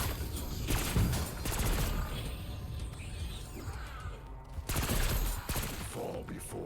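Sustained full-auto fire from an AEK 973 rifle in Black Ops 6 Zombies, a dense rattling burst run continuing for several seconds with game effects layered in, close and loud.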